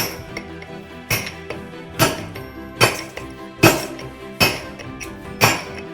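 Point chisel struck with a hammer against stone to carve parallel lines, sharp ringing metallic blows landing in a steady rhythm about once a second, close and distinct over a quiet background.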